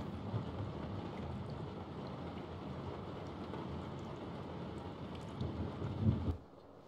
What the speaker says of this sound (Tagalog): Malakas kasi ng ulan eh. Bagyo na yata.